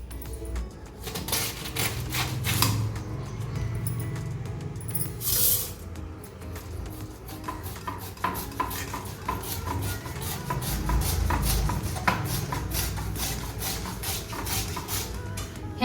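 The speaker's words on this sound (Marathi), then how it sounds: "हे पहा, मी अशा पद्धतीने एकदम बारीक असा कोबी चिरून घेणार आहे" A knife finely shreds cabbage on a board, making a long run of quick, irregular taps and crisp cuts at close range. The chopping pauses briefly now and then, and no one talks.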